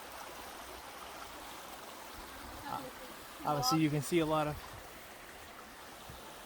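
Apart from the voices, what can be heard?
river flowing beside a trail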